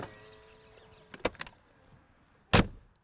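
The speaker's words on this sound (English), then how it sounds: "what it sounds like when you unlock the door and then close the door" A 2021 Mercedes G400d G-Wagen door unlocks with a few quick mechanical clicks, followed a moment later by a single loud, solid slam as the door shuts, close up in a quiet setting.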